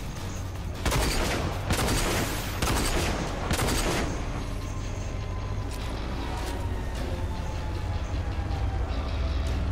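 Gunfire in the video game RAGE: a rapid burst of several loud shots in the first few seconds, followed by a quieter rumbling tail that fades out, no voices.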